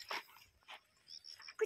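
A dog gives short, soft whimpers and yips in brief bursts, close by, alongside faint voices nearby.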